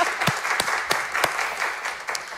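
Applause from a studio audience during a Vietnamese-language talk show, a few seconds of steady clapping with several louder individual claps standing out, close and fairly loud with no talking.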